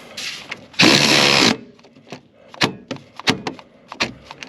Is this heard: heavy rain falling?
no